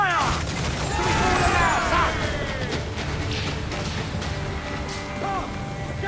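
Ship cannons booming out a broadside in Assassin's Creed Black Flag, loud crashing blasts with rumbling aftermath, overlaid by shouted crew commands and swelling orchestral music.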